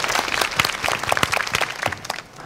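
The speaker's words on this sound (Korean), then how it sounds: "박수 한번 주세요." Brief audience applause fills a hall at a Korean interpreting contest final, dense and steady clapping that tapers off toward the end, with no voices over it.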